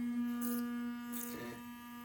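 A Vitammy Symphony sonic electric toothbrush running steadily in its white mode, a close, constant high-pitched electric hum with faint brushing noises over it.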